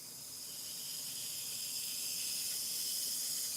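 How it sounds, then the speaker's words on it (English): An espresso machine's steam wand hisses while heating up, a steady, bright, airy hiss that holds close and even, slowly swelling slightly, with no talking over it. "steamer wand takes a little while for it to get heated all the way up."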